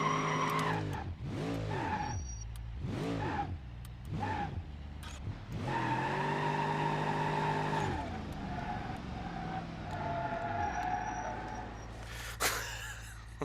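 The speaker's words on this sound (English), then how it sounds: "I can do a third gear burnout" Tires squeal in a sustained burnout on a 200BX Rotsun with a 423-horsepower engine in BeamNG.Drive, the engine revving in repeated rising and falling sweeps before a long held screech, loud and close.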